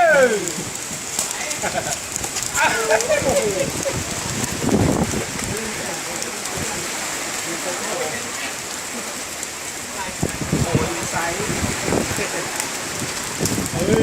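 Heavy rain pours steadily over an outdoor takraw game, a dense continuous hiss with occasional sharper knocks of play, while players shout and talk through the downpour.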